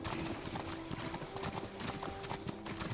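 A horse gallops in The Elder Scrolls Online, with steady rhythmic hoofbeats and a constant hum of game ambience underneath, moderately quiet.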